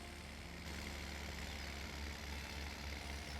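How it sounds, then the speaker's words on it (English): A truck engine in Farming Simulator 17 idles steadily with a low, even drone, then winds down as it shuts off, with no voices over it. "Listen to the engine die."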